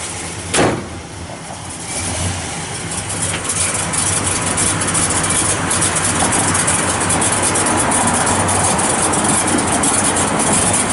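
A 1971 Buick Gran Sport engine with a mild cam and stock-type muffler cranks and catches with a sharp burst, then settles into a rough, loping idle that rumbles steadily and close.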